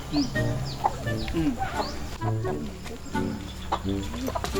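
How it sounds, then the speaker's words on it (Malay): A chicken clucks in short, repeated bursts at moderate loudness, mixed with people talking and other background noise in a scene from a Minangkabau drama. "Ayam apa itu yo?"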